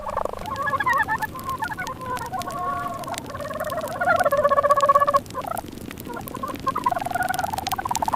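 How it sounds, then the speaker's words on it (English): Hundreds of turkeys on a farm gobble and call continuously, a dense overlapping chorus of warbling gobbles rising and falling over several seconds, moderately close with no talking. "hundreds of turkeys at this farm will be released outside to roam freely and dig for insects"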